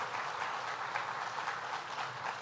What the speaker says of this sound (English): let's give a round of applause here